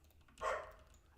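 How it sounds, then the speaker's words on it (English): A single short, muffled dog bark at the door, faint and somewhat distant, over a low steady hum. "He's barking at the door."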